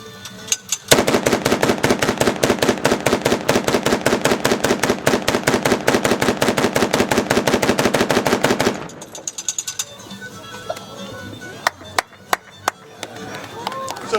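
A gun fires a long rapid burst of about eight seconds during a demonstration, loud and close. Scattered single metallic clicks and handling noises follow once the firing stops.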